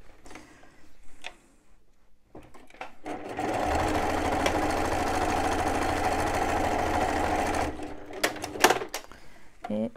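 A sewing machine stitches the lining of a fabric bum bag in one steady run of a few seconds, with softer handling clicks and taps of the fabric before and after.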